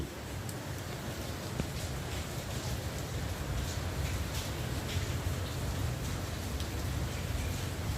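Steady rain from Cyclone Remal pours down in Jadavpur, a dense unbroken hiss of drops hitting surfaces, loud and even throughout with no voices.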